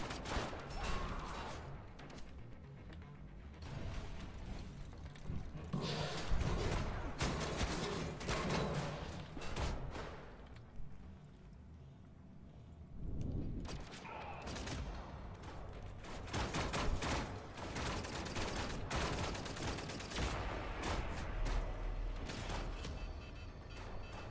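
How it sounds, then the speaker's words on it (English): A rapid-fire energy weapon in Wolfenstein: The New Order fires in dense, crackling bursts, with sharp volleys and brief lulls, loud and close throughout. "it's a rapid fire energy weapon"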